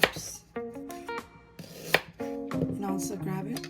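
A knife chopping beef into small pieces on a cutting board, several sharp irregular strikes close up, with quiet background music running underneath.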